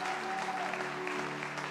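Congregation clapping together during a Brazilian church service, a dense, steady round of applause lasting under two seconds, close and even, with a faint sustained tone underneath.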